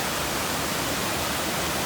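A clear brook in Baxter State Park rushes steadily past, a dense, unbroken wash of flowing water that stays close and fairly loud, with no voices over it.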